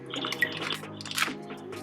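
Peaches poured from a bag into a cooking pot for homemade baby puree, a wet tumbling and splashing of fruit lasting under two seconds, close and moderately loud with no talking.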